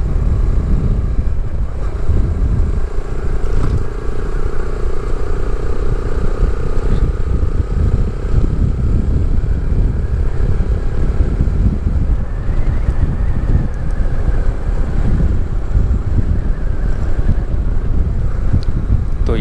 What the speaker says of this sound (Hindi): तो ये है बोट प्रिंसेस ऑफ होप